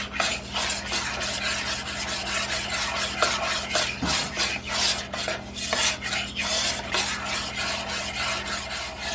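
A spoon stirs and scrapes through a thick, boiling peanut butter fudge mixture in a pot, repeated rhythmic rasping strokes with light bubbling, close and moderately loud.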